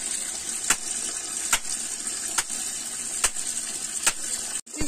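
Water runs continuously while clothes are washed by hand at home, giving a steady gushing hiss interrupted every second or so by soft splashes or slaps.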